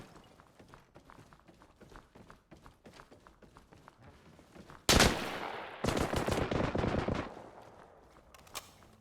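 Rifle gunfire in Arma Reforger: a loud close burst of shots, then a second sustained volley, following quieter stretches of footsteps and movement.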